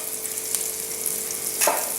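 Chopped garlic fries in melted butter in a pan, a continuous close sizzle with a couple of sharp stirring clicks, and no voices.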